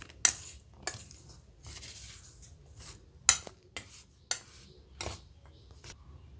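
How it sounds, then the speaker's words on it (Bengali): A spoon stirs besan batter mixed with cumin powder in a bowl for cabbage pakoda, giving sparse, irregular metallic clinks against the bowl between quieter scraping swirls. "মিশ্রণটাকে আমি ভালো করে এভাবে মিক্স করে নেব।"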